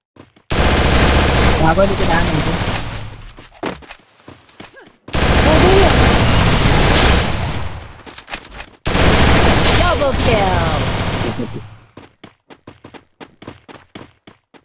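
Long bursts of rapid automatic gunfire in the video game Free Fire, three loud volleys separated by short pauses, with excited voices talking between and under them.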